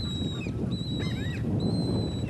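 A bird calls in the wild Pantanal of Brazil with clear, sustained honking, goose-like tones in three separate bursts over a steady low rumble of outdoor background noise.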